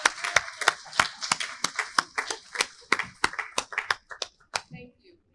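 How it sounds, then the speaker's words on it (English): A small audience at a landowner symposium panel on environmental justice claps briefly, giving sparse, distinct hand claps that thin out and stop after about five seconds. "if we could give her a round of applause"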